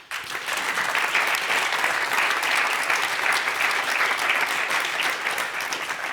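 Sustained, even applause from an audience at a foundation's evening event, starting suddenly and holding as a dense, uniform clapping roar throughout.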